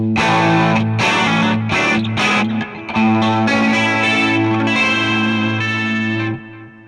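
Distorted electric guitar chords ring through a simulated Vox AC30 amp tone in AmpliTube on iPad, with chorus shimmer, strummed loudly in several bursts before fading out.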